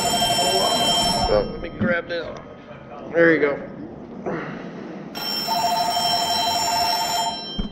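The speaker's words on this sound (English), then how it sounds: "Can't be mad when the phone's ringing." A telephone rings with a bright electronic trill, sounding twice around brief speech, the second ringing burst longer and steady.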